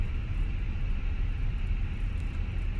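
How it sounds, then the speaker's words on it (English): Airbus A320 taxiing in Microsoft Flight Simulator, a steady low engine rumble with a constant whine above it, droning evenly without change and no talk. "Let me just taxi the airplane."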